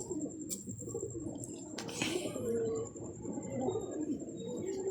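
Pigeons in a loft cooing softly amid a quiet background, with a steady high whine and a few brief rustles or flaps nearby.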